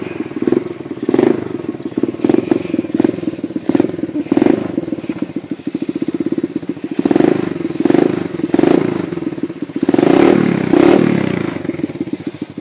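A 110cc dirt bike is kicked over with repeated thumps and clatter before its small engine catches, sputtering and revving in short bursts at close range.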